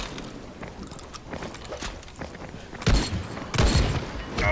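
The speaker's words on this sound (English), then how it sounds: "They don't care that I'm shooting them in the face!" Gunfire in the Dying Light zombie game at night, a string of dull booming shots and thuds over a busy clatter of combat, with two heavier blasts toward the end.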